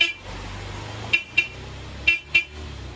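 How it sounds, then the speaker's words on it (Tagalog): Horn on a Yamaha YTX motorcycle honks four short times in two pairs, loud and near, over a low idling rumble. "Stock horn at loud horn."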